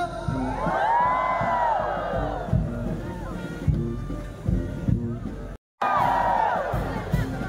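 A pilgrim crowd at the National Shrine of Our Lady of Salambao shouts and cheers in swelling bursts, loud and close, broken by a brief cut to silence before another roar rises.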